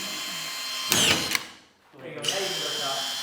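A drill drives screws into 5/8 drywall in a garage. It gives two short bursts of whirring, one near the start and one later, each under a loud constant background hiss.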